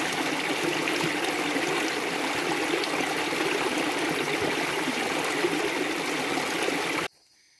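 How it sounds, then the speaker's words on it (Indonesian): Small mountain stream on a trail up Mount Salak, a steady close rush and trickle of water over rocks that continues without pause, then cuts off abruptly near the end. "kalian akan bertemu dengan sungai kecil lagi, dan itu adalah sungai kecil terakhir"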